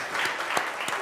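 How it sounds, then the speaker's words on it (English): An audience applauds at the launch event for an Arctic bikepacking cycle route network, with steady, moderately close clapping and a few sharper individual claps standing out. "I think we need to give him a big applause."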